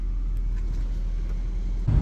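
A Nissan Gloria with about 45,000 kilometers on it, heard from inside while driving: a steady low engine and road rumble throughout, with a brief thump near the end and no talking.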